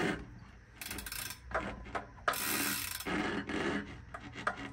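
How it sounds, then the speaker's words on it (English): Freehub ratchet on a premium Chinese-built road bike clicking as the wheel coasts, a rapid buzzing mechanical chatter in uneven bursts with short pauses, heard close and fairly quiet. "I'll give you a FreeHub bike sound test at the end of this video right now."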